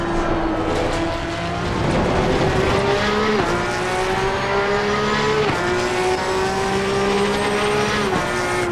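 A Porsche 911 GT3 Cup race car in Assetto Corsa Competizione brakes hard at Donington Park. Its loud, steady engine howl drops sharply in pitch three times as it downshifts, with no talk over it.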